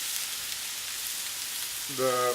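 Garlic fries in a pan with a steady, even sizzle, close and alone, before a short voiced sound enters at the very end.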